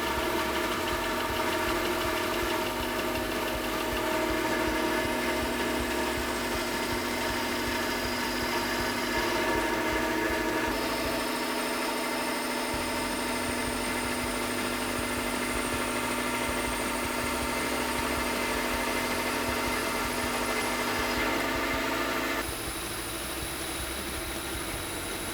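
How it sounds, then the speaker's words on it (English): A bandsaw fitted with a metal-cutting blade slices through valve covers, a steady loud mechanical hum with a constant whine running unbroken for the whole stretch, easing slightly near the end. "He's the guy with the right tools with the bandsaw."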